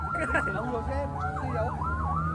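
A loud ambulance siren wails continuously, its pitch sweeping up and down in a steady rhythm, with traffic rumble underneath, at night in Kuantan.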